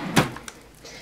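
A drawer of skincare cosmetics slides open with a single quick scrape and a light knock, close and brief, with no talk.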